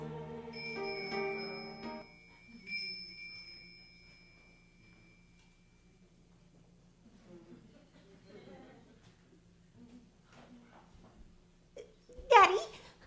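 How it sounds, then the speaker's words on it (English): A bell rings several times in a radio play production, with bright tonal strikes at the start, then a quieter stretch of low hum and faint voices, ending in a sharp, loud ring. "every time a bell rings, an angel gets their wings."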